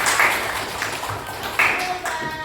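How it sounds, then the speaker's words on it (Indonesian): Clapping for a student named Wildan in a school class, a light scattering of hands clapping for a couple of seconds, fairly close with a few sharper pops standing out, with some voices mixed in. "tepuk tangan buat Wildan."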